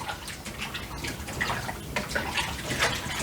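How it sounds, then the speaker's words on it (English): Water pours over brined cucumber slices being rinsed, making an irregular splashing and trickling with bursts of sloshing, close and moderately quiet, with no one speaking. "So we're going to give this another rinse."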